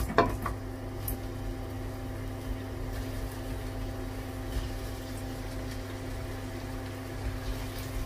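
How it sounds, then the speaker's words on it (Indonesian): Shallots and garlic sauté in hot cooking oil, stirred with a red spatula, giving a steady, even sizzle throughout, with a few sharp utensil scrapes near the start. "kalau udah panas, kita masukkan bawang merah dan bawang putih"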